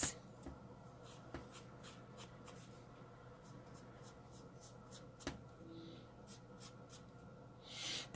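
A marker drawing around the edges of paper in a planner, a series of quick scratchy strokes in a loose rhythm, close and quiet with a few handling knocks.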